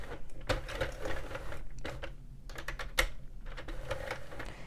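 A Sentro or Addi plastic circular knitting machine cranked through a row, giving a steady run of dense clicking and clattering with short pauses, close and moderately loud.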